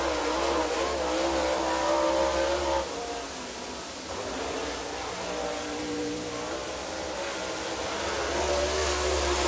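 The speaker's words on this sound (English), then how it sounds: "Here we go with Tyler Millwood, next car out to qualify." Super late model race car at Dixie Speedway in Woodstock, Georgia, starting a qualifying lap on the oval, its engine roaring and revving through the lap, surging and easing at a moderate distance with crowd-level background noise.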